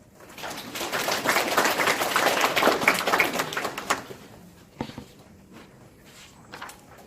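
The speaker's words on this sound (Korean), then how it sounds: "다시 한번 박수 부탁드립니다" An audience at a food and drug safety forum claps together for a few seconds, a dense patter that fades out, leaving scattered sounds and quiet room tone.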